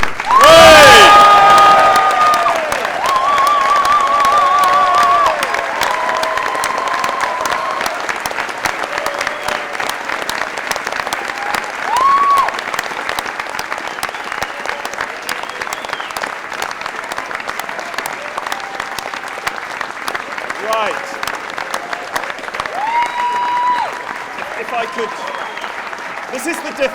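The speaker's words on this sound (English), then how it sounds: "let us show our graduates how we really feel about them, with a round of applause, and cheering is much encouraged" A graduation ceremony audience for social sciences, politics and international relations graduates breaks into loud sustained applause with cheering and whoops, easing slightly over time, with voices and shouts mixed in.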